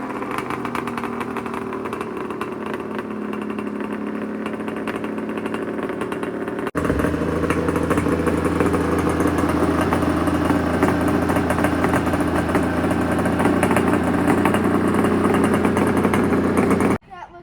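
Old snowmobile engine running, a loud steady droning idle that jumps to a stronger, rougher rumble partway through and holds there before cutting off at the end, with voices partly audible over it.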